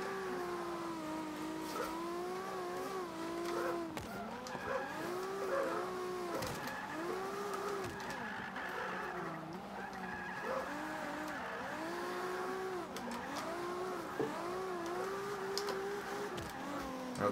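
Engine revving and shifting through gears while drifting in the Forza 5 racing game, a continuous loud motor note rising and falling with each throttle change, with tire squeal throughout.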